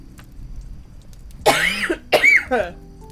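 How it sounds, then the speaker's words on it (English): A man coughs and clears his throat in a few harsh bursts close to the mic, with quiet room tone before and between them. "Sorry, I've got a bit of a cough today."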